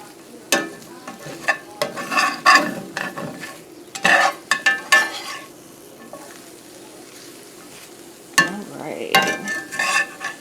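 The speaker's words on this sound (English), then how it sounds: "I always like cooking my eggs slow and low" Eggs cook slow and low in a pan for Spam migas, with a soft sizzle under repeated bursts of stirring and scraping, loud and close, then a quieter stretch before more stirring.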